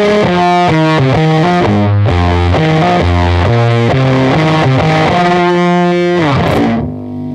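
Electric guitar through an Abominable Electronics Toke Machine distortion pedal with the tone rolled up, a loud saturated fuzzy riff of steady chord and note changes that fades out at the end.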